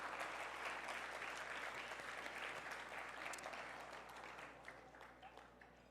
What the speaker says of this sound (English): let's give ourselves a round of applause because you are the one who stayed until to the very end